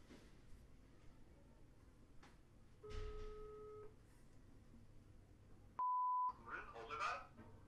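A telephone rings during a call as a thin electronic ringing tone, heard as two short beeps a few seconds apart over quiet room noise and faint voices.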